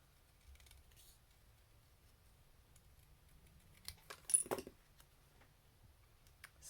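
Scissors snip through a stamped paper image in a few quick, close cuts clustered near the middle, otherwise a quiet room.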